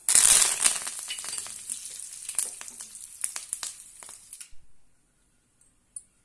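A tempering of mustard seeds, cumin, dried red chillies and curry leaves sputters in hot oil for a raw mango dal. Loud crackling settles into fading pops and goes almost silent near the end.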